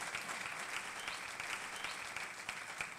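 Conference audience applauding steadily, a dense, continuous patter of many hands clapping at even loudness throughout with no speech over it.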